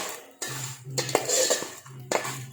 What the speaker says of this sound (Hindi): इसे हम अच्छी तरह से फ्राई कर लेंगे।